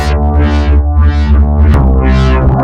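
Neurohop-style synth bass built from a rack of detuned, phase-synced copies of the Razer synth: a loud, sustained, harmonically dense tone with repeated slow filter sweeps rising and falling, played alone.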